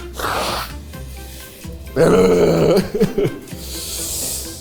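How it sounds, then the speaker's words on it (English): Person blowing their nose: a short breathy hiss, then a loud, close, wet honking blow lasting about a second with a few sputtering bursts, followed by a fainter breathy trail. "And now I'm gonna blow my nose."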